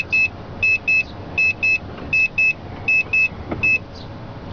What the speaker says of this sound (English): when the beeping stops, it's completely lowered.